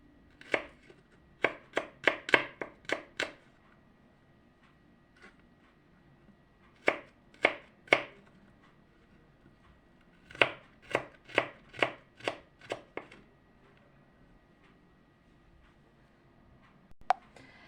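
Garlic is chopped finely with a knife in quick bursts of sharp, close knocks on a board, separated by short pauses, with no talking.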